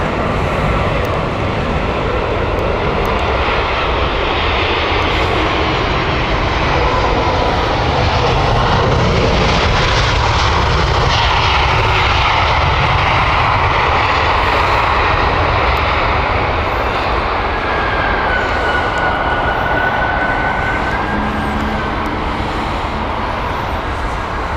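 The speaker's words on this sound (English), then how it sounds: "Copenhagen flight arriving soon." Airliner on a Copenhagen flight descending on final approach to Heathrow, a loud, close, continuous jet engine roar that swells and slowly shifts in pitch as it passes overhead.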